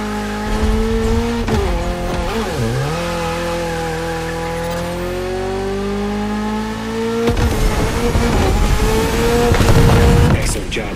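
A Toyota GR86 with a lightweight, naturally aspirated engine races in a video game, its loud engine note holding a steady drone that dips and climbs between gears, then roars harder near the end under faint background sound.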